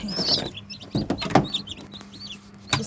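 Chickens and young chicks on a small farm, with high chirps and clucks repeating through the moment, a louder clatter near the middle and a sharp peep at the end.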